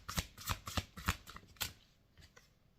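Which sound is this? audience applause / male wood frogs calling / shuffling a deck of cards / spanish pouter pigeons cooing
shuffling a deck of cards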